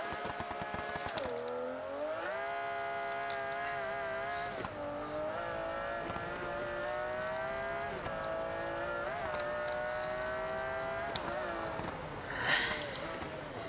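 A McLaren F1 engine in the video game BeamNG revs hard past the standard redline and climbs in pitch repeatedly, holding a loud, sustained howl with brief dips between gear changes.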